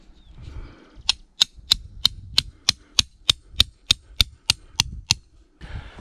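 Metal stakes for an ARB awning are driven into the ground by steady hammer blows, about fourteen sharp, close strikes at an even, brisk rhythm, with no talking.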